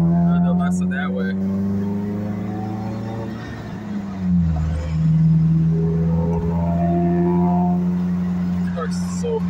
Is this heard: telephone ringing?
no